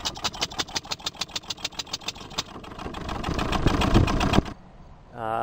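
An antique St. Lawrence marine engine built in Brockville runs at a slow, steady idle, each loud chug clearly separated, then the beats quicken and blur together before the engine cuts off abruptly near the end.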